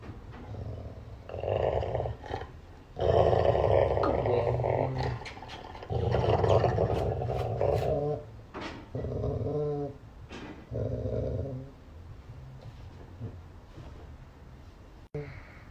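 Dog growling in bursts, low rumbling snarls that come and go over several seconds with short pauses between, close and fairly loud, fading toward the end.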